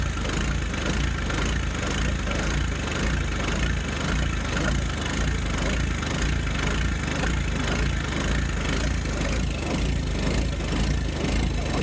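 A John Deere 1025R compact tractor engine runs steadily on a cooler stress test, a continuous close loud idle-like drone with a faint rhythmic pulse and no talking.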